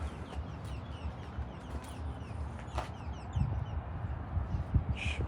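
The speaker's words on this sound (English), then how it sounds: "Got some bird mating action going on" Birds mating outdoors in a downtown area give repeated clucking, fowl-like calls over a steady background hum, moderately distant and faint, with a sharper call near the end.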